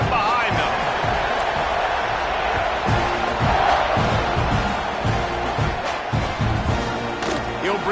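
Loud, dense stadium crowd roaring and cheering in the NCAA 26 college football video game, a steady wall of noise with thumping accents, under an announcer's voice.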